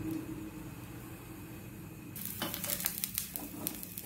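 Chapati with coriander sizzles loudly on a hot griddle after oil is spread over it, a steady crackling hiss that bursts up partway through and continues close and bright.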